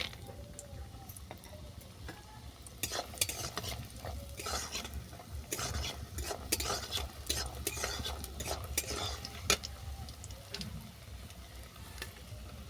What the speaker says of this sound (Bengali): তেল গরম হয়ে গেছে বইটাকে আমি বাদামি করে ভেজে নিই